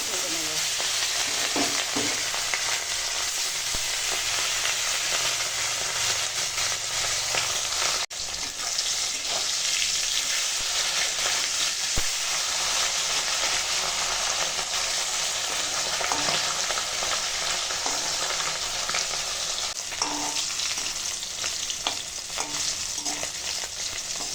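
Hilsa fish pieces, rubbed with salt and turmeric, fry in hot oil in a pan, giving a steady, close, continuous sizzle with scattered crackles and pops that runs unbroken from start to finish, with no voices.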